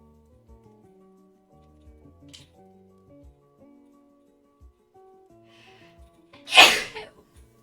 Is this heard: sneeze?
yes